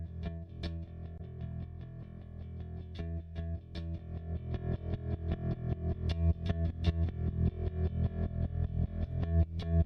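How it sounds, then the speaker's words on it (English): Bass guitar under heavy sidechain compression ducks in a steady pumping rhythm on every kick hit, set to extreme settings, with sharp drum transients cutting through a dense, distorted mix that grows louder toward the end. "We've got the bass guitar basically getting ducked by the compressor every time the kick hits."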